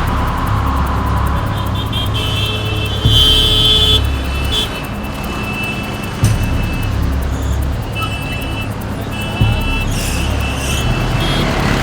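A car moving steadily, its engine hum and road noise running continuously and fairly loud throughout, with a few brief bumps or horn-like accents along the way.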